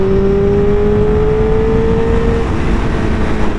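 A 1000cc motorcycle accelerates gently in third gear at about 5,000 RPM on light throttle. A steady, loud engine drone sits close to the listener and the pitch rises slightly and then holds, with no talk.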